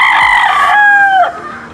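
A fighting rooster, a nine-month-old gamecock from a breeding bloodline, crows once loud and close, its harmonic call holding steady for about a second before dropping off, with no talk over it.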